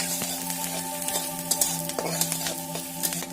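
Browned onions fry in a pan with three or four freshly added green chillies, making a continuous loud sizzle with light clinks of stirring and a faint steady hum behind it; no one speaks.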